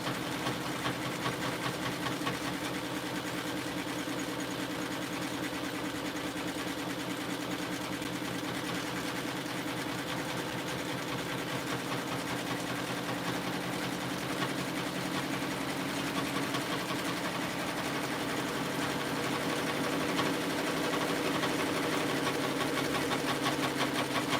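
Several sewing machines hum steadily at a set speed while kid shirts are stitched, a continuous mid-pitched motor whir with fine needle chatter running unbroken and close, no voices.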